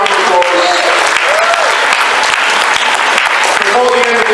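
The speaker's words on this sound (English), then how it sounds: "Give him a big round of applause." An audience at a live show about toys and traders claps loudly and steadily, a dense wash of applause filling the whole stretch without letting up, with a few voices mixed in.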